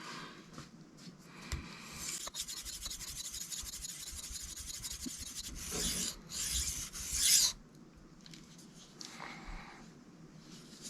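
Cold Steel Mayhem knife being sharpened on a Sharpal 162N stone, a continuous scraping rasp of steel across the abrasive in repeated strokes, close and fairly quiet, with a louder burst of strokes near the end.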